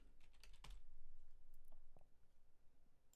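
Quiet keystrokes as Notepad is typed on a computer keyboard, a short run of soft clicks followed by a few scattered taps, faint and close.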